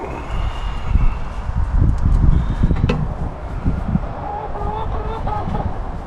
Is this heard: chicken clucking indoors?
yes